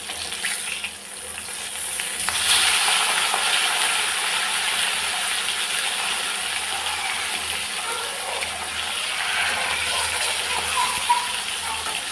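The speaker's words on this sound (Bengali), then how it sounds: "আমার না এই মাছ ভাজতে গেলে খুব ভয় লাগে" Fish frying in a pan gives a continuous close sizzle and hiss that swells slightly and holds steady throughout, with no speech.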